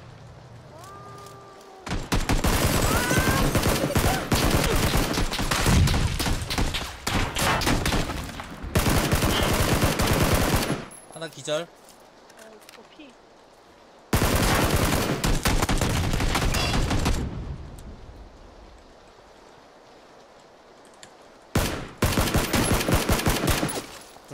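Loud bursts of rapid automatic gunfire in the battle royale shooter PUBG, several long sustained volleys separated by short quiet gaps, close and overpowering, with players talking briefly between them.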